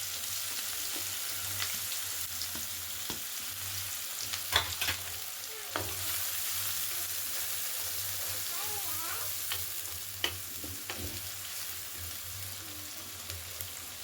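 Chopped onion and garlic frying in oil with cumin seeds, a faint, steady low sizzle with a few soft clinks and stirring scrapes scattered through, quiet and distant-sounding, no voices.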